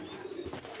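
A pigeon kept on a home rooftop farm gives a brief, soft, low coo, fairly quiet and heard alone.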